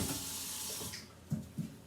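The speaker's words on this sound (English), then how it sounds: "I'm putting in some water." Tap water runs steadily into a cooking pot for about a second, a bright close hiss, then cuts off, leaving a couple of soft knocks and clinks.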